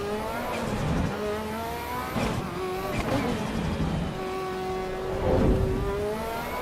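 Ferrari F40, a modified non-stock car, spinning its wheels in the Assetto Corsa EVO racing sim: a loud, continuous engine roar with rising and falling revs and bursts of tyre squeal, heard alone with no talking.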